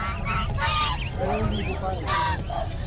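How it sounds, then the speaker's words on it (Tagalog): Geese honk repeatedly in short nasal calls over a steady low rumble at a pet market, with other birds and some background murmur mixed in. "Mga gansa."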